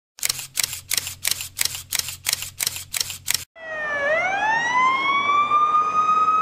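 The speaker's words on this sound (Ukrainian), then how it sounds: "Цілий день по місту ширяться звуки сирени." A rapid series of camera shutter clicks gives way to a loud wailing fire engine siren that rises and holds, close and continuous, during a fire in a town centre.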